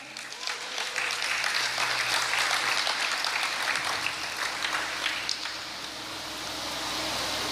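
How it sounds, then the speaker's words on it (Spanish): A church congregation breaks into sustained applause, a dense wash of many hands clapping together that holds steady for several seconds and then eases off slightly toward the end. "¿Le das un aplauso al Señor?"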